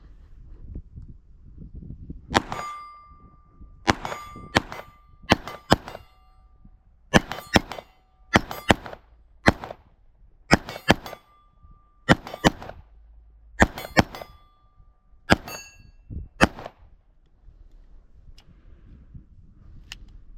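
Canik SFX Rival-S pistol fired from about 35 yards, a string of sharp shots in uneven bursts, each followed by a distant ringing clang of steel targets, with pauses between groups.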